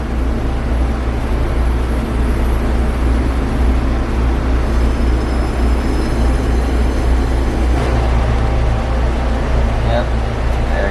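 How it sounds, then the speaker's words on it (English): A Pingxi Line train in Taiwan pulls away towards Jingtong, a heavy continuous low rumble and engine drone close by, with a faint squeal of wheels partway through. "Token acquired, the train's heading on towards Jingtong."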